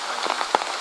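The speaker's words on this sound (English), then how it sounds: "Now the rain's letting up a little bit." Heavy rain falls steadily in a Borneo rainforest, a dense hiss of rain on leaves with a few louder drops striking close by, and no voices.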